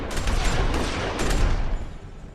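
A burst of gunfire erupts in The Walking Dead Season Two video game, several overlapping shots in a rapid fusillade with booming low thuds, loud and dense before tapering off slightly at the end.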